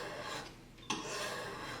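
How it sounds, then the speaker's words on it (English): The back of a chisel is lapped flat on a synthetic sharpening stone, giving close, faint, steady rasping strokes with a brief scrape partway through. "Right here I'm lapping it on a natural stone."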